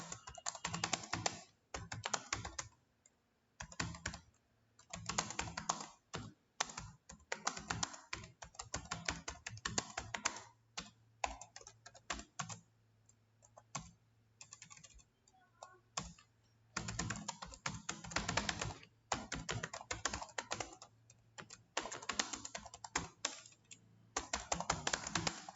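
Someone types on a computer keyboard while writing a program, with close clicking keystrokes in quick bursts and short pauses between them, continuing throughout.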